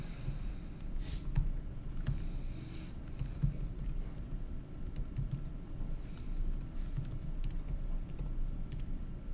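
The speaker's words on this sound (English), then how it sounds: "just start typing out an object to put in there" Steady keyboard typing on a computer while entering a database object, continuous soft key clicks running throughout at a close, even level with no talking.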